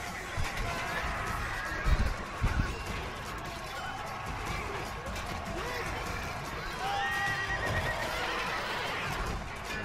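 Horses whinny shrilly over the pounding of galloping hooves and the clash of a battle between cavalry and spearmen in Rome: Total War Barbarian Invasion, set against a busy din of fighting and crowd noise.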